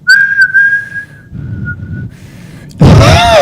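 A thin, steady whistled tone made by sucking air inward, held for a couple of seconds, dipping slightly in pitch, then ending in a loud breathy burst of air.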